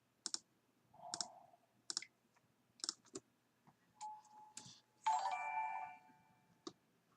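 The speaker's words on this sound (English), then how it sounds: "What was the notification?" A notification chime rings out during an online Magic: The Gathering Legacy match. It is a short bright tone burst among scattered light mouse clicks, with no voices.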